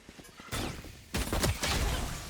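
Pistol fire in the tactical shooter Valorant: a few sharp, close shots in quick succession with short, bright bursts and brief gaps between them.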